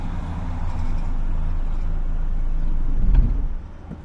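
A car engine idles and revs steadily at close range while the driver struggles with a gear that won't engage. A low rumble swells near the end, then drops back.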